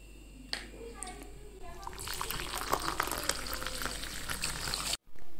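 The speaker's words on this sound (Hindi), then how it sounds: "तो सांभर मैंने उबलने के लिए रख दिया है, गैस ऑन कर दिया है।" Sambar dal heats in a pot on a gas stove, its bubbling and hiss growing from faint to a busy, close boil before cutting off abruptly.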